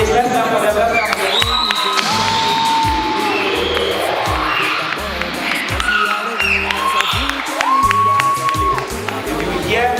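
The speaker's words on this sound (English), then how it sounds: "Please, let's clap for them." Large crowd clapping and cheering for teams at a competition finals in a hotel venue, with continuous applause, whoops and shouts, while a loud voice talks over the noise and occasional tones ring out through the hall.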